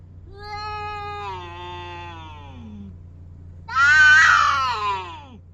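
Cats meowing in two drawn-out calls, the first long and wavering, the second louder, harsher and more strained, like a squabble, close by with a faint steady hum beneath.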